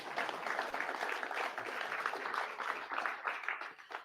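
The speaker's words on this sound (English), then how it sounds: "Give him a round of applause." Audience applause for an award winner called up at a Mississippi Bronzequest awards event, steady dense clapping from a crowd throughout, fairly close and continuous with no break.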